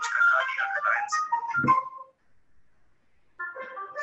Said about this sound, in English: This is a phone call from the hospital.